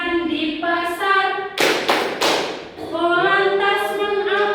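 Three sharp rhythmic claps from a class of children singing the "tepuk profesi" clapping song, loud and close, breaking between stretches of sung melody.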